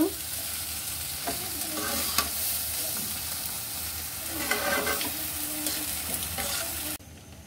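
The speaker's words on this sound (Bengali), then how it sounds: "এখন সবগুলোকে মিক্স করে নিব।" Vegetable noodles with noodle spices stirred in a hot pan, a steady close sizzle broken by repeated scraping strokes of the spatula, with no voices.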